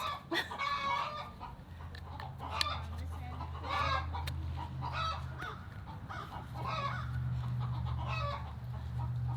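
A backyard flock of about 34 chickens clucks and squawks in a busy chorus of overlapping calls, close and steady over a low engine-like hum.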